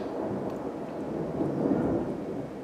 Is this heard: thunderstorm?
yes